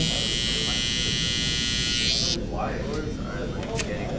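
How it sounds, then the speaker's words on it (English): An electric hair trimmer buzzes loud and close during a taper fade haircut, a steady bright drone that cuts off partway through, leaving quieter room sounds. "I'll take my trimmer again just to make sure that there is no line or the line is gone"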